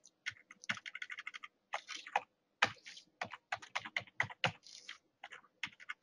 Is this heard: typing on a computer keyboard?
yes